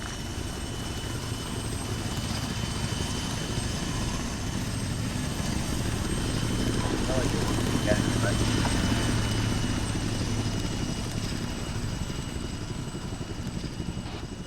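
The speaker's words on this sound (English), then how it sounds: "Spectre 1-1 taking off from runway 14," An aircraft in Arma 3 takes off from a runway, giving a loud steady engine and rotor drone that holds throughout, with voices talking over it.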